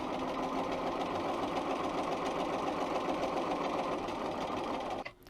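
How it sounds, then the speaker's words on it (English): A Bernina 930 sewing machine stitching fabric along a seam line: a steady, fast mechanical whirring hum running continuously and close, stopping abruptly near the end. "I'm going to hold my threads behind for just the first few stitches, and I'm going to sew along there."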